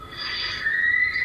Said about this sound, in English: this terrifying shriek made my hair stand on end